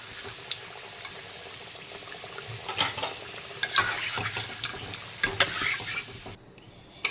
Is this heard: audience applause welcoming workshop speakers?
no